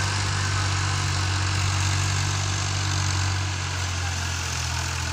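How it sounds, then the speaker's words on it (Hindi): A tractor ploughing a field runs steadily nearby, giving a constant low engine drone with a strong hum and a faint rough rattle throughout, no voices over it. "ट्रैक्टर लगा हुआ है, हलवाई हो रही है"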